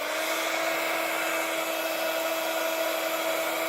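Embossing heat wand blowing hot air to heat adhesive on a handmade Christmas card, a steady whirring hiss with a constant tonal whine, unbroken and moderately loud throughout.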